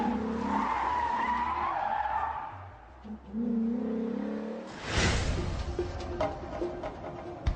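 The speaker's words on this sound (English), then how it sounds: "They also get a rare opportunity to see the cars in action, performing some defensive driving" An armored Secret Service car skids through a defensive driving run, its tires squealing loudly at length before a sharper, harsher skid burst partway through, with no one speaking.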